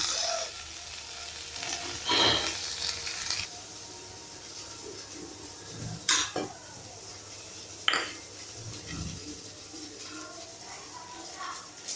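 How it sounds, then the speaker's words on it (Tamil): Soft sizzling of spinach tempering in butter in a pan, with occasional scraping and clinks of a utensil against metal, fairly quiet, no talking. "கடாயில் கொஞ்சம் பட்டர் போட்டு கீரை கொஞ்சம் போட்டு தாளிக்கலாம்"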